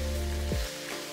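Dried shrimp fry on high flame in a pan, giving a faint, steady sizzle. A low droning hum accompanies it, slides downward and cuts off halfway, leaving the quieter sizzle alone.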